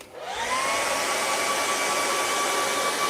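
A hair dryer blows on wet paint on a sunset path landscape painting, spinning up quickly into a loud, steady, close whooshing roar with a faint whine that holds for several seconds.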